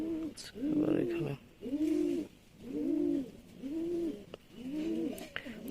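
Domestic pigeons cooing close by, a rhythmic series of about six deep, rolling coos, roughly one per second, with faint background noise between calls.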